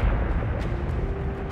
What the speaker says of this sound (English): Good, nice explosion.